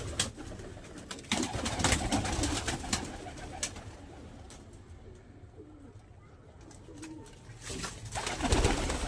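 Pigeons, some sitting on eggs, cooing softly in low, rolling calls amid rustling and occasional flutters and knocks, nearby and continuous, in winter.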